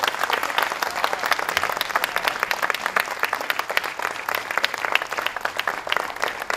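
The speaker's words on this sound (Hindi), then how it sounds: "जोरदार तालियां बजाते रहिए।" A theatre audience claps at a curtain call after a staging of Nagamandala at Bhartendu Natya Academy, as the director is honoured. The applause is brisk and continuous, with individual claps sharply distinct throughout.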